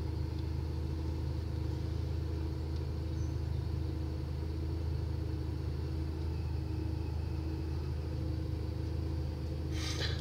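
A school bus drives by outside, heard indoors as a faint, muffled, steady low engine rumble from some distance, with a brief sharp click near the end.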